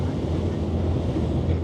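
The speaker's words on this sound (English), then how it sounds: "Look at the way the boat's actually spearing the water up there." A boat cuts through the water on Sydney Harbour with a loud, continuous rush of water and wind buffeting the microphone, a short steady stretch with no clear talking.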